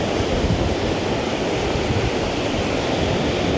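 Steady wind blows across an open New Zealand beach on the coast near Paekakariki, Pukerua and Plimmerton. The roar is loud and continuous, buffets the microphone, and mixes with surf wash, with no voices.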